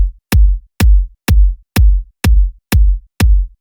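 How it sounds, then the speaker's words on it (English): Layered kick drum crossfaded in Ableton Live 10: seven punchy, booming hits at an even pace, each a sharp click followed by a deep decaying thump, loud and alone with silence between. "this will make the kick sound like this"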